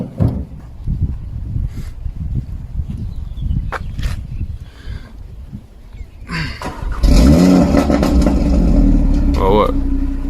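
Audi RS3 stage 2 engine cranks and fires up loudly around the midpoint, then settles into a strong, rumbling idle with a brief rev, following a stretch of quieter rustling and handling noise.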